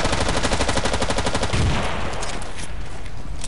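A Russian machine gun in the video game Battlefield 2 fires a loud, rapid, continuous burst close by, the rattling shots then blurring into dense ringing gunfire.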